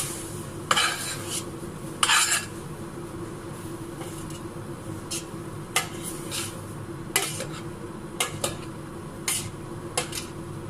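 Spoon stirring a vegetable mixture with coriander in a pan for vegetarian lasagne, repeated scraping clinks and metallic scrapes at irregular intervals over a steady low kitchen hum, no talk.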